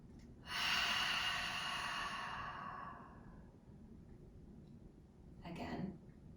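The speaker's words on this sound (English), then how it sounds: "Big inhale." One deep breath in through the nose and out, close and quiet: a long airy inhale swells and fades over about two seconds, followed by a shorter exhale some seconds later.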